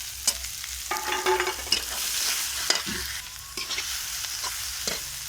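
Chopped onions hit a hot pan with chilies while a chicken curry is cooked, sizzling softly under repeated scraping stir strokes of a spatula, with brief louder clatters between steadier frying hiss.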